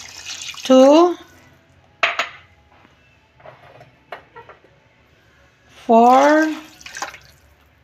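Hot water poured from a cup into a rice cooker pot, two separate pours whose sound rises in pitch as the pot fills, with light clinks of cookware between them and someone talking and counting.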